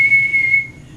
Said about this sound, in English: Coach Burley blew his whistle loud